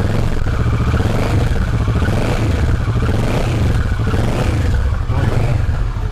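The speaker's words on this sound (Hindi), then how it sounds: "अब एक बार जल्दी से वर्सेस की भी हम लोग आवाज सुनाते हैं" A Kawasaki Versys motorcycle with an underbelly exhaust revs loudly and close, a continuous deep engine rumble with rising and falling throttle pulses throughout.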